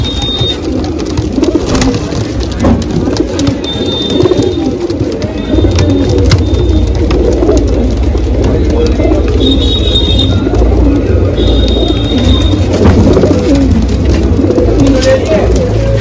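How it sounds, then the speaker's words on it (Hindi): Pigeons coo in a dense, low, continuous murmur nearby, with occasional high beeps and a voice talking over them. "ये देखिए बहुत ही हसीन लाजवाब कबूतर है सारे के सारे"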